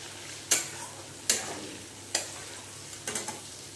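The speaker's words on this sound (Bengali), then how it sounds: "এবারে কেটে রাখা আলুগুলো দিয়ে কষে নেবে।" Cut potatoes sautéing with salt and spices in oil, a low sizzle under four sharp spoon scrapes against the pan at roughly even intervals, the last few clustered quickly together; no voices.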